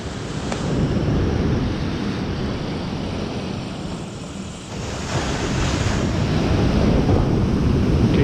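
Surf waves roll and wash steadily onto a beach on the Holderness Coast during a sea-angling beach competition, a loud, continuous broadband roar with gusts of wind buffeting the microphone and no talking.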